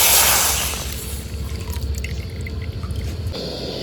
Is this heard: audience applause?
no